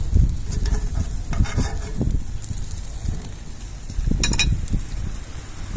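Hot dogs on a griddle being flipped for Montréal-style hot dogs, giving a steady close sizzle with scattered scrapes and clacks of the turner, plus a busier clatter near the end.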